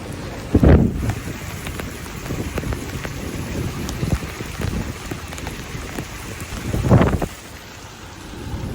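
Heavy rain pours down in Kandahar, Afghanistan, a steady dense hiss of falling water with two louder rumbling surges, one near the start and one near the end, and no clear voices over it.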